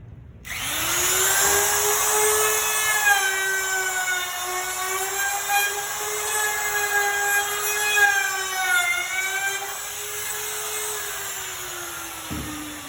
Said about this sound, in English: then I can finish routing with the rest of my board